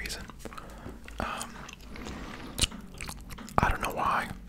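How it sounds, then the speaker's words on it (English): Mint gum is chewed and bitten close to the microphone, producing wet, crunchy mouth sounds with sharp bites scattered throughout, alongside soft whispered talk. "I love just biting into a piece of gum and then being like overwhelmed with mint"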